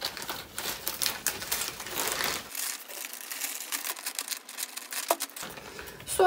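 Crinkling of a plastic bag with ventilation holes cut in it as amaryllis bulbs are placed inside, close and continuous rustling and crackling with brief pauses, with no talking.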